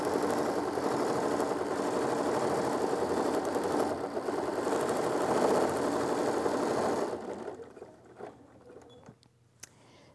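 A Bernina sewing machine with a stitch regulator stitches free-motion quilting in a fast, steady, even whir that stops after about seven seconds, leaving quiet fabric rustles and light clicks.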